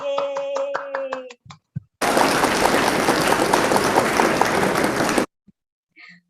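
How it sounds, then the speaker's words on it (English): A burst of enthusiastic clapping from a crowd, dense and steady for a few seconds before stopping abruptly, preceded by brief music. "Please give your applause, guys."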